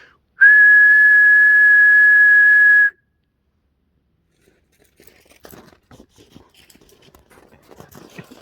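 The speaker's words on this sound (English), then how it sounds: "Maybe I'll whistle first and see what happens." A person whistles one long steady note outdoors in the woods for about two and a half seconds, then quiet rustling and crunching follow.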